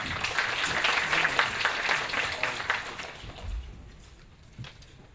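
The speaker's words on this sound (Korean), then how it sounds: "큰 박수로 환영해 주시기 바랍니다." An audience at a developer forum gives a speaker a welcoming round of applause: brisk clapping that fades out midway, leaving a quieter room with a few faint thumps.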